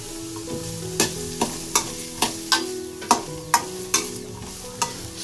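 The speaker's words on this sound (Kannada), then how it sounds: "ಫಸ್ಟ್ಗೆ ಬಾಣಲಿ ಕಾದಾದ್ಮೇಲೆ ಬೆಣ್ಣೆನ ಹಾಕ್ಬಿಟ್ಟು ಅದಕ್ಕೆ ಕ್ಯಾರೆಟ್ ಮತ್ತು ಕ್ಯಾಪ್ಸಿಕಮ್ನ ಹಾಕಿ ಚೆನ್ನಾಗಿ ಫ್ರೈ ಮಾಡ್ಕೊಬೇಕು" Carrot and capsicum fry in butter in a hot pan, with a constant sizzle and about a dozen sharp, regular scrapes and knocks of a spatula stirring the vegetables.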